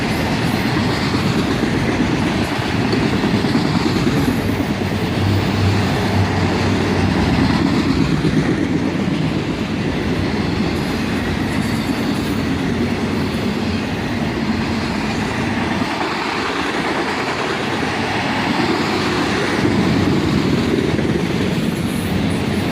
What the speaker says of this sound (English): Northbound auto racks, mostly empty, at track speed